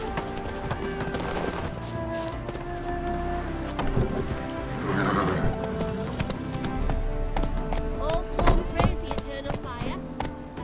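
Geralt's horse Roach gallops in The Witcher 3: Hearts of Stone, a steady rhythmic clip-clop of hooves close by over a game ambience of music and background noise, with no speech.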